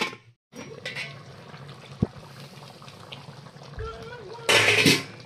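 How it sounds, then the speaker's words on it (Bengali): Hot water poured into a pot of fish-bone chorchori curry cooking on the stove: a short, loud rushing splash near the end, after quieter kitchen bubbling and a voice. "এবার এটাতে দিয়ে দেবো গরম জল।"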